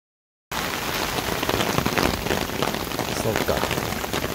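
Heavy rain pours at the Itadori Onsen auto campsite, a loud, dense, continuous hiss and patter that begins abruptly after a brief silence and stays steady to the end.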